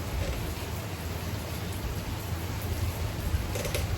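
Steady rain falls outside, a dense, even hiss of drops on surfaces that continues without a break, with no talking.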